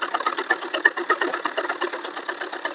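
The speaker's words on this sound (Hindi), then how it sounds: "ऐसे इसको बराबर पकड़ लेंगे और फिर सिलाई करेंगे। इस तरह से हम सिलाई कर लेते हैं।" Sewing machine stitching the hem of a four-panel (chaar kali) salwar, a steady rapid whirring chatter of needle strokes running continuously at close range with no talk.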